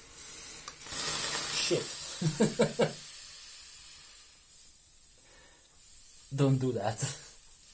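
Boiling-hot water hisses while coffee is made without a coffee machine, a faint, airy spray that persists through the clip as a person talks in short outbursts.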